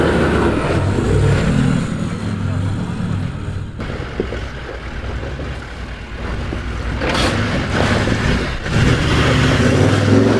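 Toyota Land Cruiser 4x4 engine working at low speed as the vehicle crawls over obstacles on an off-road track, a steady loud rumble that swells and eases, with no voices.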